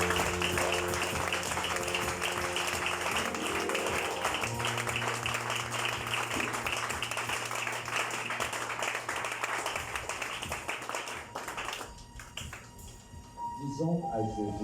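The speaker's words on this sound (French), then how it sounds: "Est-ce qu'on peut acclamer encore pour Jésus?" A church congregation applauds and cheers for Jesus during a Sunday prayer service, a dense, sustained roar of clapping over music, continuing steadily before thinning out near the end.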